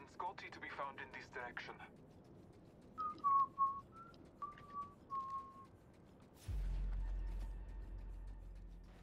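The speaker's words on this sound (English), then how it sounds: "like you said you're gonna not sing, but now you're switched to whistling, nice" A person whistles a short tune: several clear, sustained notes rise and fall during an Apex Legends game session, heard after brief talk and before a burst of loud game noise.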